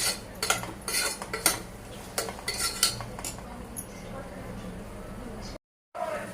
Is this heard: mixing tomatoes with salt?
yes